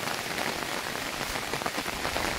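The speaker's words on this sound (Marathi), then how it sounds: "पाऊस चालू आहे" Steady rain falls through a large mango orchard in a village, a dense, even patter on leaves and ground that never lets up, heard alone with no voices.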